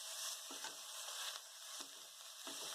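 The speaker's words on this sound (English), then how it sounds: "Then add fenugreek and amaranthus leaves" Fenugreek and amaranthus leaves fry in a pan with a steady bright sizzle, soft stirring scrapes breaking through now and then, no voices.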